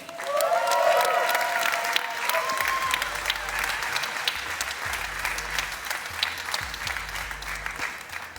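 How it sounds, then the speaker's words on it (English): Audience applause greets the all-new GLC at a car presentation: dense, sustained clapping that swells loudest early, then holds steady with a low hum underneath. "Ladies and gentlemen, a big applause for the all-new GLC."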